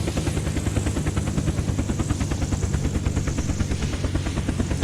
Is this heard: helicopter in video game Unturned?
yes